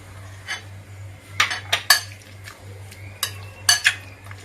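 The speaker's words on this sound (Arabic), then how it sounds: "غادي نخلط هاد المكونات." Marinade ingredients for chicken, including soy sauce, being mixed in a bowl: a handful of close clinks and scrapes of a utensil against the dish, spaced irregularly over a low steady hum.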